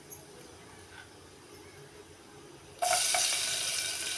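Crushed garlic dropped into hot oil already holding mustard seeds and cumin bursts into a sudden loud, crackling sizzle after a quiet lead-in, then keeps hissing strongly.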